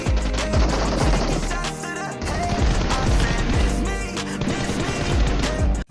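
Rapid video game gunfire from a shooter, dense bursts of loud shots with impact cracks repeating continuously in a fast, nearly unbroken rhythm, close and loud with no talk.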